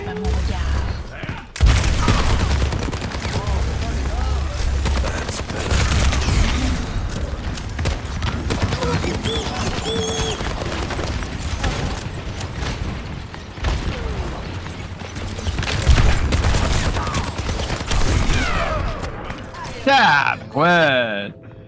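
Rapid gunfire volleys and booming impacts fill a chaotic Overwatch 2 match, with dense overlapping shots throughout while game voices chatter and call out over the action.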